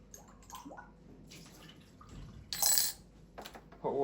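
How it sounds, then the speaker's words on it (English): Hot water runs from the tap of a Breville Barista Pro BES878BSS espresso machine, a brief close hiss and splash of water straight from the boiler, with a few light drips and clinks around it. "If you turn that away, it'll give you clean hot water straight from the boiler."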